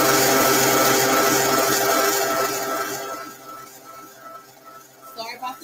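An electric mixer whips homemade body butter with a loud, dense whirring hiss that holds steady for a few seconds, then fades and wavers as the mixer eases off.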